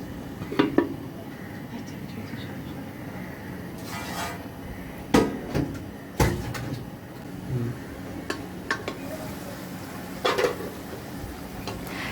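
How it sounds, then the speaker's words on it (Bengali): A pan of egg curry stirred with a spoon and then covered with a lid, giving scattered metallic clinks and knocks over a low background sizzle, close by, with a few sharper clanks spread through. "এখন একটু নেড়ে ঢাকনা দিয়ে ঢেকে দিব কিছুক্ষণের জন্য"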